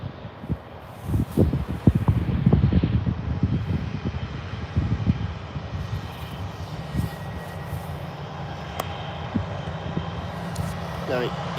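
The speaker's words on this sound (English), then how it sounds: "No, EasyJet A320." An EasyJet Airbus A320 at Birmingham airport gives a distant jet engine roar that is strongest early and then fades. Wind and rustling can be heard, and voices talk over it.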